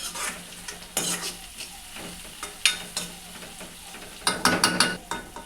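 Onions and cumin fry in a pan for gongura mutton. A spoon stirs them in clattering bursts over a soft sizzle, loudest near the end.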